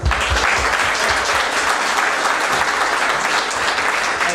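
A wedding audience claps in a steady, dense round of applause welcoming guests who flew in from Hong Kong, a sustained wash of many hands close by with no voices standing out.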